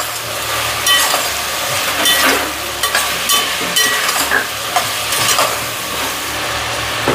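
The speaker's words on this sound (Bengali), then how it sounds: "আবার একটু নেড়ে দেবো আমি" Vegetable biryani being stirred in a pan, with steady hiss and sizzle and intermittent scraping, clattering spoon strokes close by, no voices.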